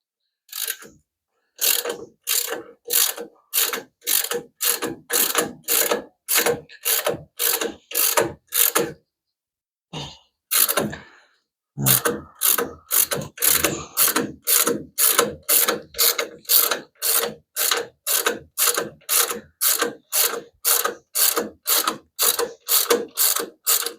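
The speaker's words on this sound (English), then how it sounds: "I'm gonna tear this bolt out again." A ratchet wrench works a bolt loose on a 1934 Plymouth coupe, with steady, evenly spaced ratcheting strokes repeating close up, one short pause midway, then the same rhythmic clicking resumes with no talking.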